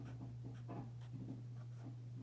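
Colored pencil scratching on paper while working a quadratic equation: faint, short strokes in quick succession over a low steady electrical hum.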